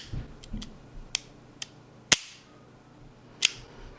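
A Ruger GP100 .357 Magnum revolver being dry-fired, a few sharp, close metallic clicks of the hammer and trigger spaced irregularly over a quiet background.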